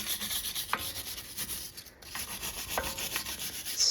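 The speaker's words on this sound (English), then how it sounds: "You need to go with your brush and Scotch-Brite and clean up those surfaces" A brush and Scotch-Brite pad scrub rust and grime off a BMW F30 wheel hub, making a steady close rasping rub with a few sharper scraping strokes, no talking.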